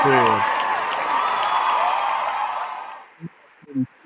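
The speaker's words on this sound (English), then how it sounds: "let me go ahead and give you an applause" Applause from a small audience at a sports talk show runs for about three seconds, with a voice over its start, then fades out into brief bits of speech.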